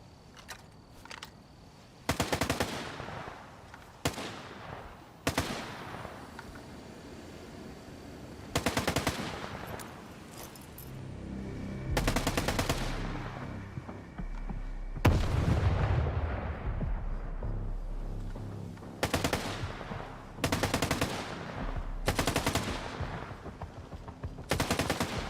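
Bursts of machine-gun fire in the video game Stalker 2, loud rapid volleys repeating in separate strings of shots with short pauses between them and no talking.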